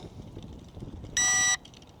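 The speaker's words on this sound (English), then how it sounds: "I got a beep out of the controller this time" A single short electronic beep from a ZD012 camera drone's controller, high-pitched and steady for under half a second, over a low background hum.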